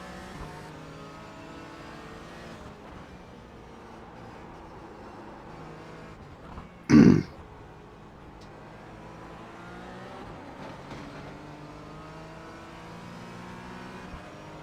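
A Porsche GT4 race car engine drones steadily in the iRacing game, its tone rising and falling through gear changes, with one sharp loud burst near the middle and no talk over it.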